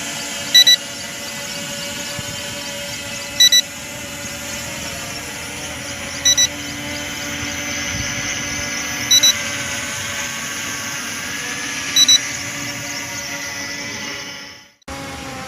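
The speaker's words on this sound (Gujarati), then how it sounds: "યાર દેખો ખાલી કેટલું સ્ટેબલ ડ્રોન ઉડી રહ્યું છે" An M3 Max toy drone flying outdoors in Ahmedabad, giving a steady, thin whirring drone that holds constant, with brief short beeps repeating about every three seconds and a sudden cut near the end.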